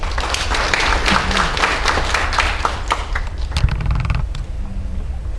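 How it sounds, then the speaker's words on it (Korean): An audience at a labor law forum applauds with steady, moderately loud clapping from a seated crowd in a meeting hall, mixed with a few thuds and creaks. "박수 부탁드립니다"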